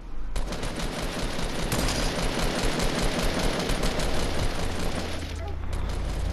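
Rapid automatic gunfire from a Fortnite battle royale match rattles on in a dense, continuous burst, with player voices talking over the shooting.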